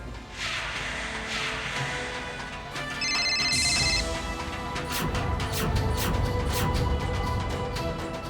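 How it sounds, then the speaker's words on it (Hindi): A telephone rings unanswered in a household during a TV drama, a tonal electronic ring rising over background music, with repeated tones in the later part. "कोई फोन ही नहीं उठा रहा?"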